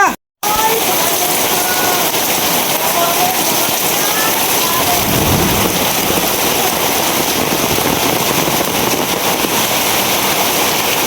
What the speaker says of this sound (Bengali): বৃষ্টি রে